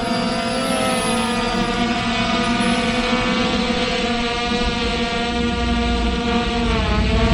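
A FIMI X8 SE 2022 V2 drone flies with a weight hanging beneath it, giving a loud, close, steady propeller buzz and whine that holds without a break throughout.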